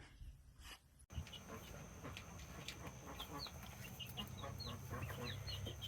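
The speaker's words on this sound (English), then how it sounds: "We have a chicken sitting on the eggs." A hen sitting on a clutch of eggs gives soft, repeated clucks and short chirping calls over a steady low background hum, fairly close and at a low level.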